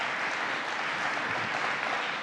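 Steady applause from a crowd at a New York governor's speech on STEM education, a broad even wash of clapping held at a constant level throughout, with no voices over it.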